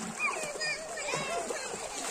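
Pool water splashes as young kids swim around wearing inflatable tubes, short busy splashing mixed with children's and adults' voices talking nearby.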